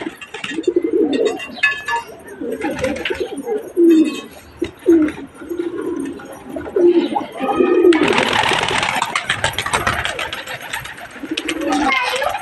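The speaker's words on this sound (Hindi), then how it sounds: "देखो दोस्तों अभी चार पांच कबूतर और रह गए ऊपर" Domestic pigeons coo in soft, repeated throaty bursts close by, mixed with wing flutters and a loud rustling scramble midway, while someone talks over them.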